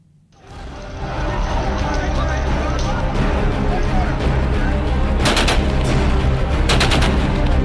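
Aerial gunfire at protesters in Mirpur and Muzaffarabad, Pakistan-occupied Kashmir, heard as a few sharp rapid bursts of shots over a loud, continuous crowd and street din, with voices throughout.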